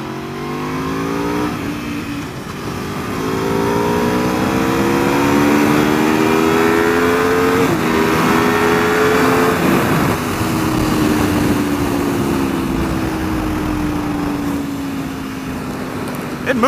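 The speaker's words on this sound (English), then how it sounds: "This thing kind of bogs out in first gear." Aprilia motorcycle pulling away from a stop in first gear, its engine revving loud and close with rising, bogging pitch sweeps and a gear change partway through, sustained throughout.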